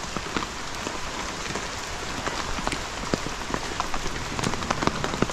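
Heavy, steady rain pours onto hard surfaces around a concrete basketball court, a dense continuous roar of spatter with sharp individual drop impacts throughout.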